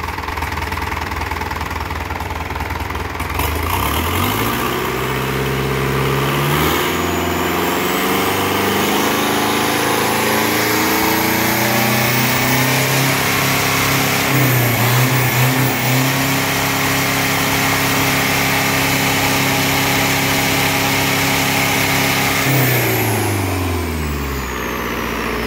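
A Yanmar 4JH 114 hp marine diesel engine runs loud and close, climbing to roughly 4,100–4,200 rpm and holding a steady high drone before easing back near the end.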